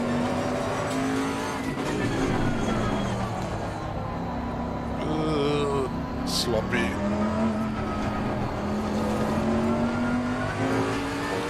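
A Bentley race car in Assetto Corsa Competizione holds a high, strained engine note with rising and falling revs and faint tyre noise, loud and continuous, while someone talks briefly over it.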